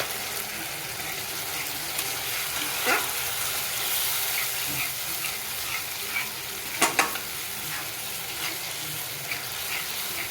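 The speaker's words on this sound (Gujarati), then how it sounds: "હવે આમાં તેલ છૂટું પડે નહીં ત્યાં સુધી આપણે થવા દઈશું." Tomato purée for Mumbai-style pav bhaji frying in oil and being stirred, a steady soft sizzle with a few brief scraping stir sounds, close and moderately quiet, with no talking.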